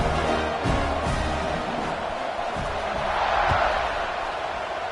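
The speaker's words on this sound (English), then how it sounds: "this crowd is buzzing after that last score" A football stadium crowd at SMU vs UCLA, buzzing on a wet night after a score: a broad, steady roar of many voices, fairly loud and continuous, swelling slightly near the end.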